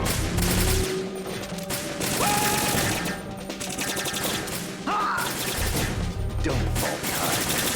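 Sustained automatic gunfire in Metal Gear Solid 2 rattles loudly and almost without pause, dense volleys mixed with metallic impacts and occasional sharper cracks.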